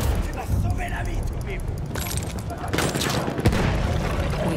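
Enemy machine gun fire in Battlefield 1 on the Soissons Conquest map, a steady clatter of bursts with scattered booms and cracks, set amid continuous battle noise.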